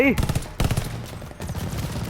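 Rapid gunfire crackles in the video game Call of Duty: Vanguard, several sharp bursts in quick succession, close and loud, with brief gaps between volleys.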